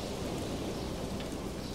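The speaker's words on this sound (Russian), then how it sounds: "А ливень-то знатный." Heavy rain in the video game The Black Mirror 2 falls as a dense, steady hiss of a downpour, constant and fairly loud throughout the short stretch with no talking.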